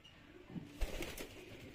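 Blue dummy pigeons cooing softly in a loft, a few low murmuring coos with a brief wing flutter, fairly quiet and close, no talk over them.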